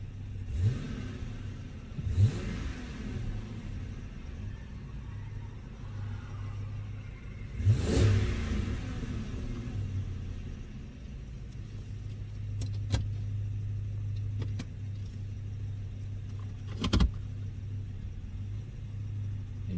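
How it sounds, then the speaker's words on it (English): Inside a car cabin, the exhaust note swells in several short revs against a constant deep idle rumble, with one longer rev in the middle and a final blip near the end. "Get a little exhaust note in the interior"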